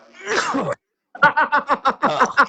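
A single sneeze, close and loud, followed after a short silence by a burst of rhythmic laughter-like sounds.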